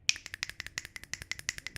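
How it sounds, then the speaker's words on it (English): Fingers on both hands snap in a quick, regular run of sharp, crisp clicks. The snaps are close and fairly quiet, with no talking. "snapping two fingers on each hand when you do that?"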